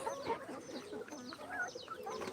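Karinkozhi black chickens, two roosters and two hens, clucking repeatedly in short overlapping bursts, close and moderately loud against a quiet farmyard background.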